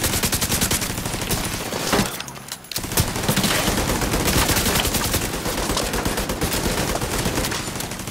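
Sustained automatic gunfire from a deployed turret in the shooter game Division 2, rapid dense bursts running almost continuously with a brief lull near the middle, loud and close.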